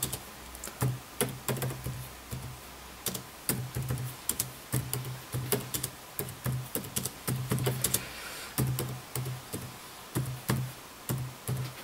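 Computer keyboard typing as a caption is entered in Windows Movie Maker, heard as irregular bursts of close, crisp key clicks with short pauses between words, alone without talk.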